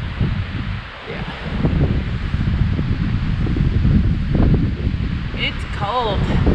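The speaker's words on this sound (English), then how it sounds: "It's cold and windy at the top here." Cold wind buffets a microphone on a hilltop, a steady rough rumble and rustle lasting the whole time, with a few faint bird chirps near the end.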